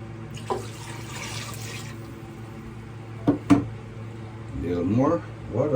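Water is poured into a cooking pot, a brief soft splashing hiss early on, followed by clinks and people talking nearby.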